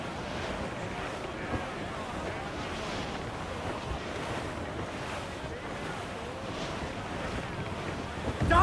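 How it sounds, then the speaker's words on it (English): A sailing ship riding a squall in Assassin's Creed IV Black Flag, with a steady roar of wind and surging waves that builds slightly toward the end. "As much sail as you can! Stunsels, let's ride this squall!"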